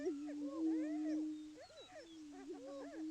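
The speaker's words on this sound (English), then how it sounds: "that's a greater prairie chicken" Greater prairie chicken booming: a low, steady hooting drone holds throughout, while looping, whooping calls rise and fall over it in clustered bursts, fairly close and clear.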